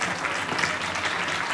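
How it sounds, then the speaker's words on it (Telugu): A crowd at an engagement ceremony claps together in a steady, dense round of applause that carries on evenly from start to finish, heard at moderate distance. "చప్పట్లు కొడదాం దయచేసి, గట్టిగా కొడదాం."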